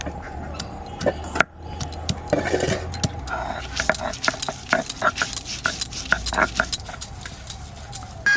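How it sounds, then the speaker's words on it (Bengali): Cumin, coriander and dried chilli being ground into a paste for a duck curry, with steady rough scraping strokes and scattered clinks close by, a few faint voices in the background. "তারপর আমি জিরে ধনে আর শুকনো লঙ্কাটা পরে বেটে নিচ্ছি"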